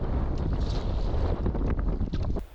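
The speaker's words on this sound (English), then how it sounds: "there sure is a gust of wind coming up through this little narrow." Wind gusts buffet the microphone at a sheltered lakeside campsite on a narrow channel, a steady loud rumbling roar filling the whole clip before it drops away abruptly near the end.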